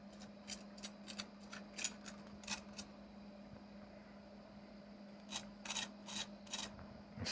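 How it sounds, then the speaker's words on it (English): Crispy skin on a smoked spatchcock chicken crackles under a knife in quick bursts of crunchy cuts, a pause midway, then another run of crackling; faint and close, no talking. "I want you to hear the crispiness of the skin here."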